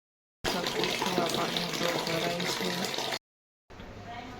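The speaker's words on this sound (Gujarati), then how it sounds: "તો હું પોતા કરું છું, પાણીની ડોલ ભરું છું" Tap water gushes steadily into a bucket for about three seconds, loud and close, then stops briefly before a quieter stretch of running water resumes.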